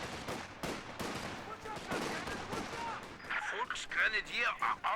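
Sniper rifle fire in a competitive strategy war game match, sharp gunshot cracks mixed with other battlefield gunfire and effects, with a commentator talking over the action.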